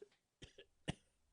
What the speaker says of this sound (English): he began to cough